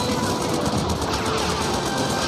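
Rapid gunfire crackles continuously in the helicopter rescue video game DOSTUFF Heli Rescue 2, a dense, harsh burst of shots with no pauses.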